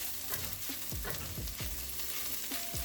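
Chapati noodles are stirred in a hot pan over a bed of sizzling oil, with a series of scraping spatula strokes about every half second.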